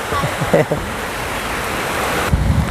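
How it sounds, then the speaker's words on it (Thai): Steady rain pours down around a rural house in Thailand, a dense continuous hiss that runs throughout, with a few brief voices and knocks underneath. "โอ้ฝนตกพี่น้องเอ้ย"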